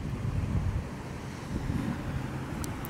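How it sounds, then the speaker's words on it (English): Ocean surf rolls in near a Bahamas beach, a continuous low roar of breaking waves mixed with gusty wind buffeting the microphone. "over that way is the ocean"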